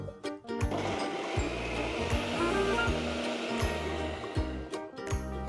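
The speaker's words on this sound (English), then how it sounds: "The next step is to grind this into a fine paste or puree." A food processor grinds chopped Alphonso mango and apple into a fine paste for jam, giving a loud, continuous motor whir with churning, slightly pulsing texture throughout, with no talking.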